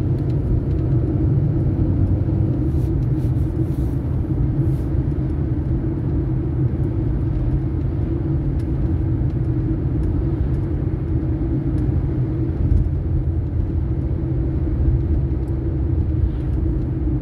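A Skoda Fabia with a 1.2-litre 12-valve three-cylinder chain-driven engine, heard from inside while driving: a steady low engine drone and road rumble that stays constant throughout, with no talking.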